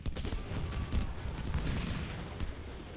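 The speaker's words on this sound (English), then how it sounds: "I hear gunfire" Gunfire in the Civil War strategy game Ultimate General: Civil War, a dense, continuous crackle of musket volleys and heavy booms lasting the whole stretch, loud and busy with no speech.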